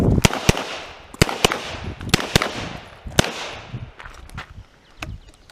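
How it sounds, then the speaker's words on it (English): A 1917 Mauser C96 Broomhandle pistol in 7.63x25 fired at a range, about a dozen sharp, loud cracks in quick irregular bursts, each with a short echoing tail. The later shots trail off into quieter, more distant-sounding reports. "We're going to be doing some tactical fire now."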